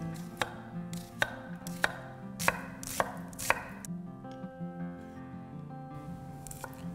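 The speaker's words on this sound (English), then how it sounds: "Grab this onion. I'm just gonna slice this in half." An onion sliced with a knife on a cutting board: about eight crisp chops land in an uneven rhythm, close and clear over soft background noise, then trail off into quieter handling.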